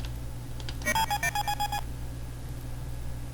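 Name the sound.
Nav Droid beeping sound effect, Space Quest 1 video game, Apple IIgs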